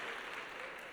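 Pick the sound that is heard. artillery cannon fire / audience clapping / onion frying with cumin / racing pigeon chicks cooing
audience clapping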